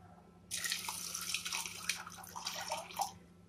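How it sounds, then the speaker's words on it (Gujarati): Water poured into a pot of peas set to boil, a continuous splashing, gurgling pour starting after a brief quiet moment and running to the end, close and clear. "આપણે એમાં થોડું પાણી એડ કરીએ,"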